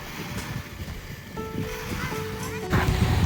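Sea surf washes onto Riviera beach at the 12th Fontan station in Odesa, a steady wash of waves under wind noise, swelling louder near the end, with a few faint tones in the background.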